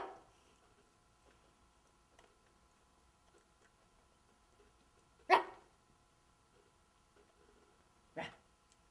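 A boy imitates a dog, giving two short, sharp barks spaced a few seconds apart in an otherwise quiet room.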